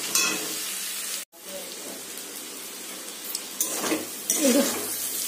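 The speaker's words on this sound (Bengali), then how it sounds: "আলু আর পেঁয়াজটা ভাজা করে নিয়ে দুটো ডিম দিয়েছি, দিয়ে একটু ভাজা ভাজা করে নিয়েছি।" Potato, onion and egg fry for chow mein in a home kitchen pan, a continuous close sizzle with stirring and scraping, a brief clatter near the start and someone talking over it.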